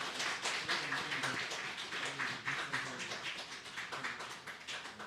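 A church congregation at a Sunday worship service applauds as an elder presents flowers, a soft, distant, sustained patter of many hands with no voices over it.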